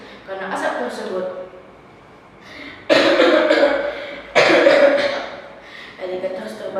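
Repeated coughing by a person choking on smoke in a narrated story, with several loud bursts of coughs spaced through the passage and speech-like voicing between them.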